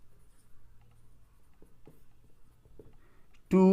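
A pen writes out a math solution on paper, soft scratchy strokes in short bursts, quiet and close, ending with a sudden loud burst of speech.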